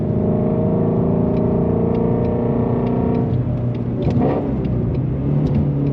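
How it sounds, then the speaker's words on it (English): A 2020 Shelby GT350R with a resonator delete rumbles loudly and close, its throaty exhaust droning at a steady pitch before the engine note shifts and rises briefly, with no talk over it. "So you get a nice throaty, louder exhaust sound, and it also has some nice pops and bangs that go with it."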